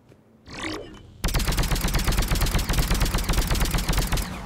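Rapid, evenly spaced shots from the Indra sniper rifle in Mass Effect 3 fire in a steady automatic stream, loud and close, after a brief mechanical whir at the start.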